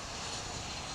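A fixed-wing airliner roars on takeoff from a runway at DFW International Airport, a broad steady engine rumble that fills the short moment with no talking.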